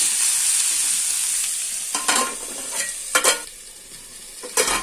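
Potatoes and tomatoes are stirred in a pot over a soft background sizzle, with a few sharp bursts of scraping from the spoon against the pot, close by and with no talking.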